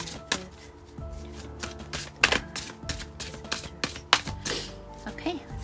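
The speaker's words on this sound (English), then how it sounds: "let's start shuffling" Tarot cards being shuffled by hand, a quick run of crisp riffling taps and flutters with brief pauses between bursts, close and fairly loud, with no talking over it.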